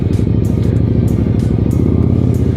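A 1992 Honda Shadow 400 cruiser motorcycle engine idles or runs close and loud, a steady throbbing rumble with even pulses and no voices.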